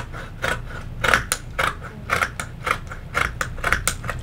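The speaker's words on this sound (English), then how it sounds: "So what I'm gonna do is I'm just gonna simply cut." Scissors snip through fabric while a two-piece dress top is cut, a steady series of about eight crisp, close cuts, each blade closing with a sharp bite.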